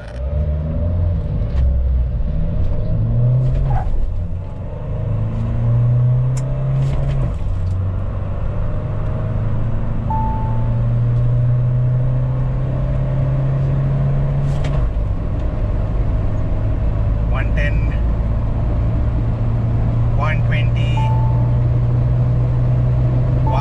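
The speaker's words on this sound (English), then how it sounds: "the first ever acceleration run done on the Mahindra Thar Diesel" Steady loud rumble from the cabin of a 2020 Mahindra Thar Diesel accelerating from 0 to 100, its engine note climbing and dropping through gear changes, with a few faint clicks and no talk.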